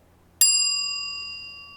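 A single bright bell ding rings out as a cue in a Spanish lesson, a sharp strike followed by a clear metallic tone that slowly fades over the next second and more.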